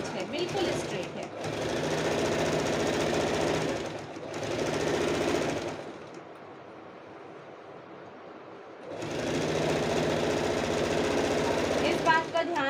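A sewing machine runs straight single stitching front to back on a blouse in bursts, its rapid mechanical chatter loud and close, pausing for a few seconds in the middle before starting again.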